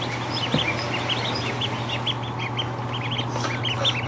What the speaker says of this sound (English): Come here, little duckling.